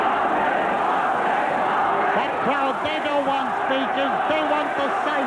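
Dense stadium crowd roars and cheers at the 1981 All-Ireland hurling final between Offaly and Galway, a steady loud wash of many voices with a commentator's voice rising over it.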